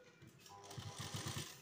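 A sewing machine stitches along a gathered fabric sleeve edge, a soft, quiet rapid chattering of needle strokes in short bursts, close by with no talking.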